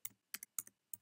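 Computer keyboard typing while coding JavaScript: four quick clusters of crisp key clicks, close and fairly quiet, with short pauses between bursts.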